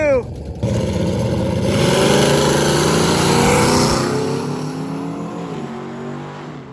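A drag race between a G-body car and a long-bed Chevy truck with a turbo LS: engines roar hard and build to a loud sustained howl, then ease off as the vehicles pull away, with a voice audible early on.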